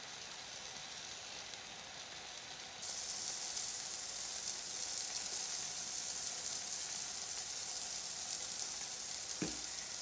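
Pork chops searing in oil in a pan on high heat: a steady frying sizzle that gets louder and brighter a few seconds in, with one brief clack near the end.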